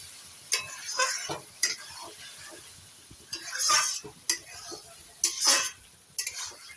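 Cashew and almond paste sautés in a pan for a Mughlai chicken dish, with intermittent close scraping stirs over a faint sizzle and no talking.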